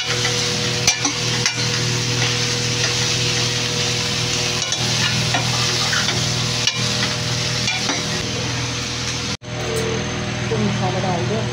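Spice paste fries with browned onions in a home kitchen pan, a constant close sizzle with occasional scraping stirs, a voice talking over it and a brief dropout near the end.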